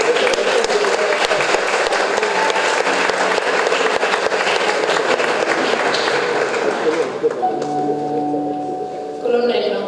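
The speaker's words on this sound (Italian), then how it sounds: "Ecco il momento della consegna che accompagniamo con un bellissimo applauso" An audience claps through a sustained round of applause at the Solidarietas 2023 award ceremony, a dense crackle that thins toward the end, with a voice over the PA near the close.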